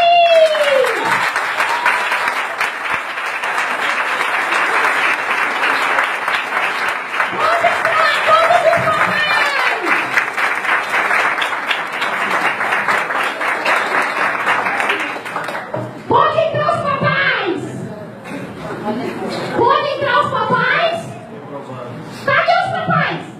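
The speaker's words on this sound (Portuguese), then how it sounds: "pode aplaudir!" An audience bursts into sustained clapping and cheering for about fifteen seconds, loud and dense, then it tapers into scattered claps, laughter and chatter with children's voices.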